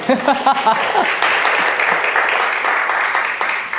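Audience applause at a church talk, a dense burst of clapping that swells and holds steady, with a voice briefly heard over the start.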